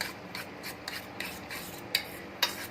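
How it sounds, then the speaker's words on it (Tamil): An egg is mixed into batter for a simple evening snack, with a steady run of soft, close scraping strokes in an even rhythm and two sharper scrapes near the end. No one speaks. "நல்லா மிக்ஸ் பண்ணிக்கோங்க."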